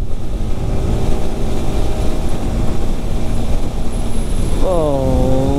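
A Yamaha R15 V4 motorcycle pulls hard through the gears, a loud steady engine drone with rising harmonics that dip and climb again at a shift near the end, under continuous wind roar.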